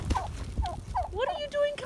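Goose calling outdoors in deep snow during a blizzard, a series of honking, nasal cries repeated several times, fairly close and moderately loud over low wind rumble.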